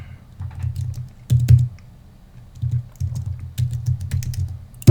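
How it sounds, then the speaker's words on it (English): Close, muffled key presses on a computer keyboard while a keyword is entered, coming in uneven bursts of low thuds with short gaps and no talk. "I'm going to type in the keyword here"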